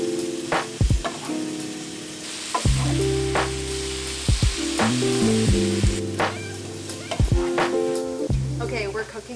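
Food fries in a pan behind the cook, a steady sizzle under intermittent talking with a few clinks and scrapes of utensils.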